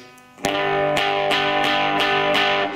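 An electric guitar strums sustained chords of a song with a light amp crunch, each new strum ringing out clearly with no voices.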